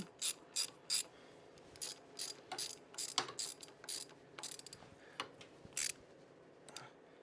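A ratchet runs bolts down on a Sportster motorcycle's neutral switch, giving close, crisp bursts of rapid clicking in short repeated runs with brief pauses between strokes.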